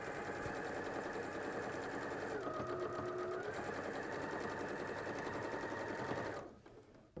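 A sewing machine runs steadily through a tweed bag seam, its fast, even rattle close and continuous for about six seconds before it stops.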